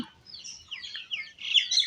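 Chickens feeding on napier grass, giving soft clucks and chattering bird calls that grow a little busier and louder toward the end, close by with no talk.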